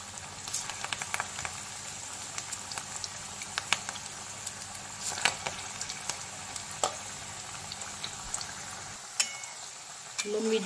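Chicken pakora deep frying in hot oil gives a soft, continuous bubbling sizzle with scattered crackles and pops. It is fairly quiet, with no talk, and a faint clatter sounds near the end.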